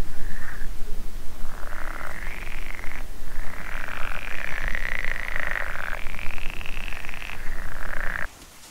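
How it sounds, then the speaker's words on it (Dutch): A dense chorus of frogs croaks at night near a tent camp under a full moon, a continuous rattling trill that swells and overlaps for several seconds before cutting off abruptly. "En een kikkerconcert."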